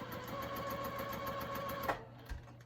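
A sewing machine hums in a fast, steady rhythm while chain-piecing half-square-triangle cut-offs, then stops near the end, leaving a couple of faint thumps. The sound is close, moderately loud and free of speech.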